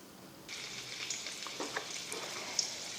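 Hot olive oil in a wok on high heat bursts into a bright, steady sizzle that starts abruptly and continues close and crackling, with a few sharp pops.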